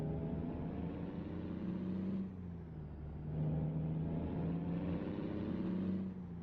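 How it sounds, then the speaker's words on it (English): Kenworth T2000 truck engine in American Truck Simulator on a drive from Gillette to Jackson, Wyoming, a deep steady diesel rumble that dips briefly in pitch and then climbs again, running continuously with no talk. "this truck does sound super mean"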